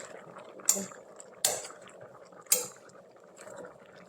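A lid goes onto a cooking pot of kangkong, giving three sharp metallic clanks about a second apart, followed by a softer knock, over quiet background noise.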